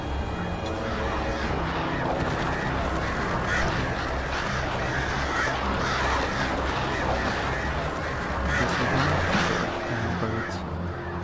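Harsh cawing and squawking birds swarm in Alan Wake Remastered, a dense, loud flock sound over rumbling game ambience and effects, with the calls layered continuously throughout.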